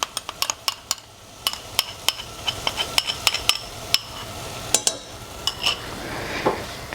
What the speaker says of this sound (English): So I'm going to add my coconut mixture in.